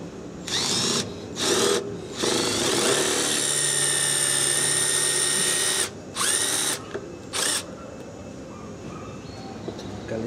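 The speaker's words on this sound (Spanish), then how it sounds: "Le perforo." Electric drill boring into a broken screw, a loud high whirring motor in several bursts: short runs, then a long sustained stretch, then two more brief pulses, with no talking.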